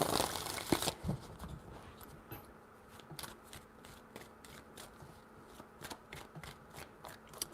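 A deck of tarot cards is shuffled in one brief, close riffle, then settles into faint, intermittent card taps and handling against a quiet background.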